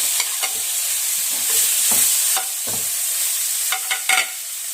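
Pineapple chunks tossed into a hot pan with pork bones, stirred and sizzling loudly, with scraping spatula strokes and bursts of frying hiss throughout.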